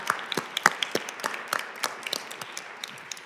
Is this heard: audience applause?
yes